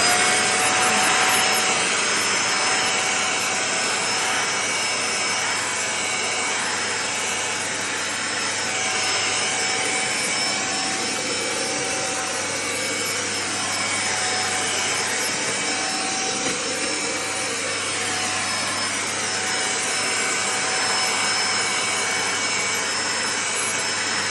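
A budget vacuum cleaner with its suction attachment fitted runs steadily and loudly for the whole stretch, a constant broadband whine and rush of airflow with no talking over it.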